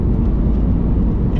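Toyota GR86 sports car engine during a heel-and-toe downshift into third gear, a loud steady droning engine note heard close up, with no talk.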